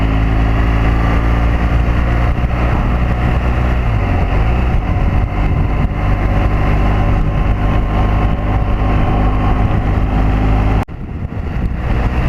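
A 2014 BMW R1200GS Adventure motorcycle engine runs loud and steady close by, a continuous droning roar held under throttle for about eleven seconds before cutting off abruptly near the end.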